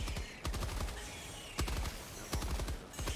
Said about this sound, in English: I can't actually hear you because of gunfire.